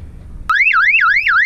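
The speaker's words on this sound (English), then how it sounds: "This is replacing this alarm, which was mounted higher up just below the radar dome." A sailboat's burglar alarm siren kicks in abruptly after a short quiet moment, then wails loud and close in a fast rising and falling electronic sweep that repeats.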